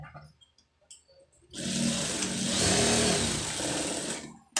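A sewing machine runs a steady, loud, close whirring seam for about three seconds as two blouses are stitched together, after a few faint clicks and handling sounds, with no talking.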